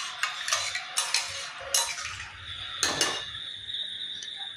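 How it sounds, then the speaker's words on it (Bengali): Spoon scraping and clinking against a pot while catla fish head and potato curry is stirred after water goes in, several short metallic scrapes in irregular bursts, close and moderately loud, with no talking. "জল দেওয়ার পরে এটা ভালো করে একটু নাড়াচাড়া দিয়ে নেব"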